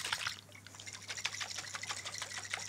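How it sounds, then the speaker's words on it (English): Oil and a sesame ginger dressing slosh inside a lidded jar shaken hard, a rapid, rhythmic liquid rattle that stays close and continuous over a faint low hum. "Okay, lid on. We'll give that a really good shake."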